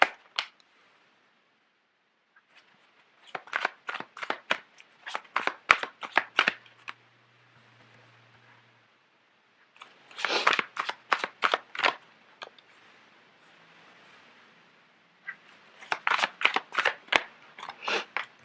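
Tarot cards are shuffled by hand in three bursts of quick, crisp riffling flicks separated by short pauses, close and clear with no talking.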